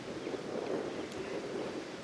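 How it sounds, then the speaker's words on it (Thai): Strong sea waves at Samila beach roll in as a steady, distant broadband wash, faint and continuous, with wind noise and no voices. "โดยสภาพคลื่นแรงนะครับ"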